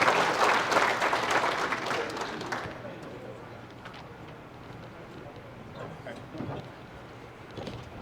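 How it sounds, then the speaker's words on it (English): Audience applause at a motorsports hall of fame ceremony in Maine, a dense burst of clapping that fills the room for about two and a half seconds, then thins and fades under murmuring voices and scattered room noise. "So if we could all just give a round of applause to Bob Bailey real quick"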